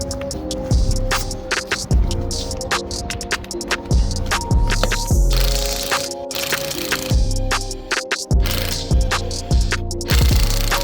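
Repeated bursts of a ratcheting tool working loose the wheel on a BMW in a home garage, sharp clattering impacts recurring roughly every second over a steady background hum, close and loud, with no talking.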